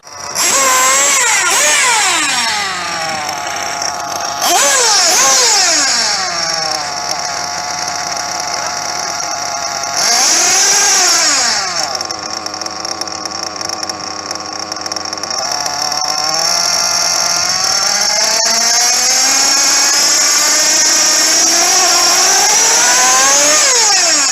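A nitro-powered Kyosho RC truggy engine warming up, buzzing loudly at a high idle, then repeatedly revved in sharp rising and falling blips, close by and without pause.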